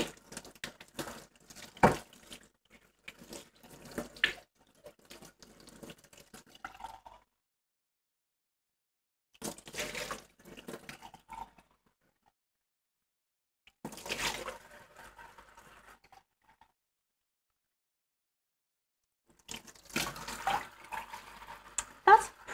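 Tap water runs in short bursts to rinse a beer glass, with gentle splashing and trickling separated by near-silent pauses, close and fairly quiet.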